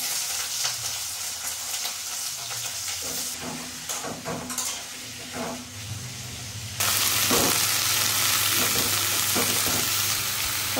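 Cauliflower and potatoes fry in a pan with a steady hissing sizzle and occasional stirring scrapes. The sizzle jumps louder and fuller partway through, then continues without talk.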